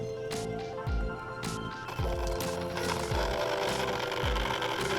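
An RC servo runs on a SAVOX third-generation dynamic testing machine, giving a steady mechanical whir with regular clicking, ratchet-like knocks roughly every half second, close and fairly quiet.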